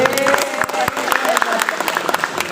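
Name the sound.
applause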